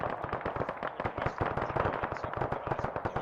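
Sustained automatic gunfire from a large-scale ArmA 3 infantry battle: dense, overlapping bursts of machine-gun and rifle shots crackle continuously at close to mid range, loud and relentless with no pauses and no speech.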